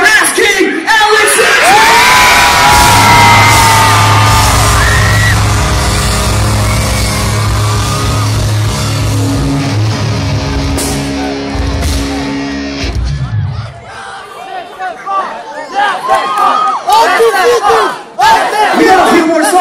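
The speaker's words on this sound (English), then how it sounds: "Scream if you're ready for Ass King Alex!" A concert audience at a live metalcore show in Denmark screams and cheers loudly for about thirteen seconds, a dense roaring wall of voices over a low droning backing, then breaks into scattered whoops and yells as it thins out.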